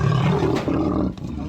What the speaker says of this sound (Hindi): तेंदुए की ये दहाड़ डराने वाली, भले ही ये अब पिंजरे में कैद है